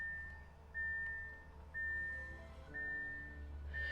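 A 2021 Audi e-tron SUV plays its startup welcome melody at power-on, a soft chime phrase of repeated sustained tones at a steady pace, moderately quiet over low cabin hum, with no talking.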